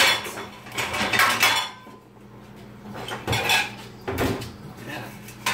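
A tray of homemade tortilla chips goes into a kitchen oven, with metal pan clatter and clinks in close, loud bursts separated by a short quiet gap.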